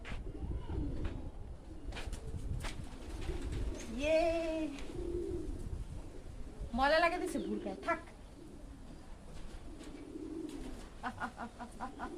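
Pigeons coo in low, rolling bursts amid a busy park background, with people talking over and between the calls.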